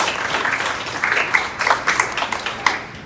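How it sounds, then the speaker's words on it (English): Audience applause at a City of Petersburg groundbreaking ceremony for a new park and ride facility, a steady patter of many hands clapping with a few sharper claps standing out, moderately loud throughout. "Give Ms. Mitchell another round of applause."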